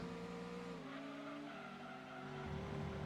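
Ford Taurus in a racing video game, engine whining through gear changes with a sustained tire squeal as it corners, close and steady throughout.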